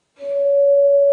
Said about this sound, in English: You get this sound. This is the perfect fourth.